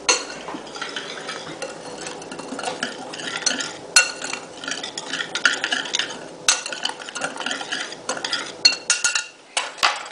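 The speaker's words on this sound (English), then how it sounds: "I'm just going to whisk that all together." A spice mixture is whisked in a bowl, giving quick, uneven clinking and scraping strokes of metal against the dish at close range, with no talking.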